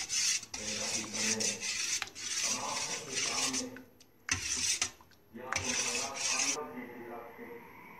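A spoon scrapes and rubs around a pot of dry fruit kheer in repeated bursts of stirring, with short pauses between strokes.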